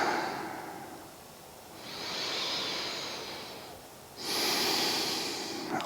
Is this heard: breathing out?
yes